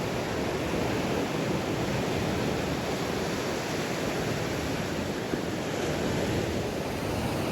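Steady ocean surf washing onto a sandy beach at False Cape, Virginia, a constant loud hiss of breaking waves mixed with breeze and no voices.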